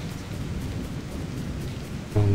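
Steady rain pours through the .hack//G.U. Vol. 2 game scene as a constant dense hiss with low rumbling underneath, ending in a brief louder tonal hum.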